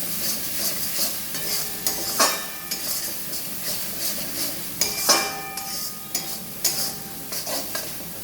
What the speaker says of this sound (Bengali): আর কি ভালো করে কষাবো যতক্ষণ না মশলার তেল ছাড়ে।